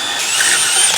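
Power drill boring a hole in a 1976 GMC motorhome, a steady high-pitched whine that holds loud and close for about a second before cutting off.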